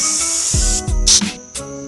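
A spray gun lays one heavy coat on an interior piece from a 1967 Chevelle restoration, giving bursts of steady hiss broken by short pauses and a few low knocks, with no speech.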